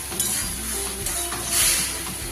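Brinjal (eggplant) frying in a pan sizzles steadily, then hisses up sharply as a small amount of water is poured in, with faint stirring scrapes close by.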